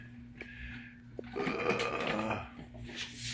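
An airbrush is plugged into a Harder and Steenbeck quick release coupling, a brief click, then a steady hiss of compressed air swelling and fading over a low continuous hum.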